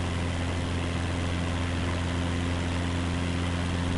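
Steady, droning propeller engine of a Cessna light aircraft in Microsoft Flight Simulator 2024, a constant loud hum with a low tonal buzz and no talk.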